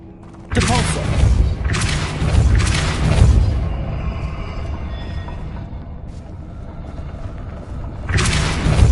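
The Depulso spell in Hogwarts Legacy fires with a sudden deep boom and forceful thud, followed by rumbling impacts and debris, and then another heavy blast near the end.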